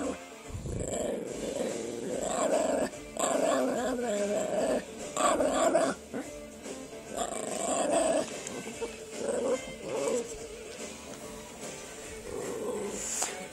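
A dog growls at close range in repeated low, rumbling bursts separated by short pauses, with no talking.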